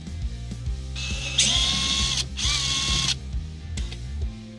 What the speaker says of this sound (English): Then you can go ahead and drill it.